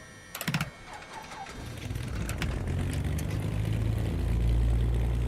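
A light aircraft's propeller engine in a flight simulator coughs into life after a few clicks, then settles into a steady low idle that grows louder and rumbles on alone.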